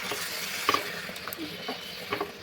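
Flat beans with mustard-poppy paste being stirred in a pan, a soft, close sizzle with a few light scraping clinks, fairly quiet and continuous, no talk.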